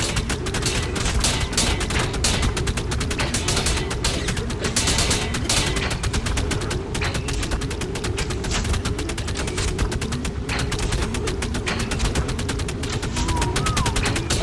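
Gunfire in the video game ARK: a continuous, loud fusillade of rapid shots pours out without a break, with faint voices mixed underneath.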